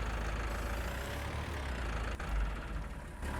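Tractor engine in Farming Simulator 19 on the Alpine Erlengrat map, a steady low idling rumble with a brief bump in intensity partway through, heard alone.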